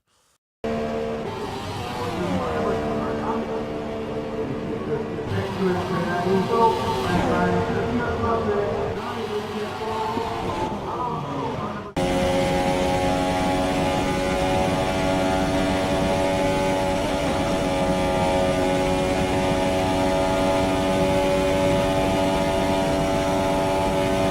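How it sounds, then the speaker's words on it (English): Racing cars from F1 2019 with steady high-revving engine drone and harmonic whine, shifting in pitch early then settling into a sustained loud tone after an abrupt change, with voices talking over it. "It was DT having the hugest crash I've ever seen."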